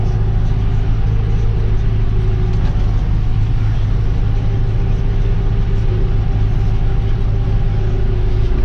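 A John Deere tractor raking cut meadow grass at about 7 to 8 km/h, a loud, constant engine drone and low rumble heard from inside the cab, with steady mechanical hum throughout.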